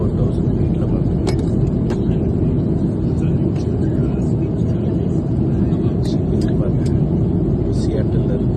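Steady low roar of a Lufthansa airliner cabin cruising at 24,000 feet on the Seattle to Frankfurt flight. Constant broadband engine and air rumble, with a few faint clicks and knocks scattered through it.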